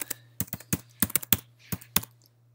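Keystrokes on a computer keyboard, a burst of about nine sharp taps in uneven rhythm over a steady low hum, close and fairly quiet, with no talking.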